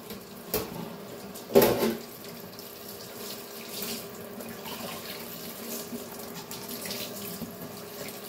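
Tap water runs steadily into a kitchen sink while dishes are washed, with a couple of brief louder splashes or clatters early on and a constant rushing flow throughout.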